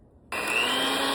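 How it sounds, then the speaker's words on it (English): An electric mixer starts abruptly after a brief quiet moment and runs at a steady whine, blending a creamed mixture with creamy peanut butter for chocolatey crunch bars. "mix in the peanut butter until fully blended"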